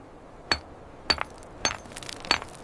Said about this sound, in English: They used so-called hammer stones, made of harder rocks, with which they literally chipped away pieces of granite